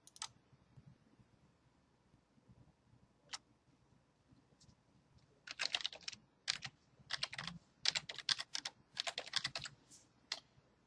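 A password being typed on a computer keyboard, a few isolated clicks and then quick bursts of close key taps, quiet and with no talking.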